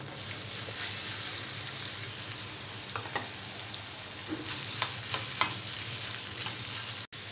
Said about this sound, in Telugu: పచ్చిమిరపకాయలు ఫ్రై చేసుకున్న ఇదే ఆయిల్లో బీరకాయ ముక్కలు కూడా ఫ్రై చేసుకోవాలి.